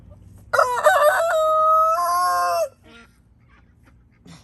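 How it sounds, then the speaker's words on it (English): A rooster crows loudly and close by, one long strained cock-a-doodle-doo lasting about two seconds over a quiet outdoor background in a rainy-season food forest garden, then near silence with a faint rustle. "I still hear him crowing"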